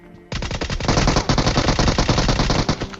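An automatic gun in a shooter video game fires a loud, rapid, sustained burst of closely spaced shots that starts abruptly and runs without pause.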